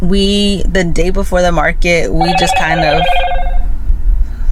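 A mobile phone rings with a tonal ringtone melody that starts partway through, under and after someone talking nearby.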